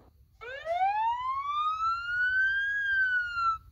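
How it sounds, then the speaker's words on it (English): A single ambulance siren wail rises steadily in pitch, holds high and clear, then eases down slightly. It sounds loud and alone against faint low background rumble. "Ambulance."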